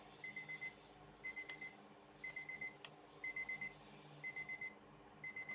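An alarm clock beeping in quick bursts of four short tones, repeating at a steady pace, faint against a quiet background.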